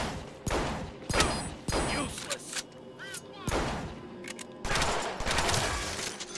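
Rapid gunfire in the Deadpool video game, loud bursts of shots with heavy thuds cutting in again and again, close and dense, with voices now and then underneath.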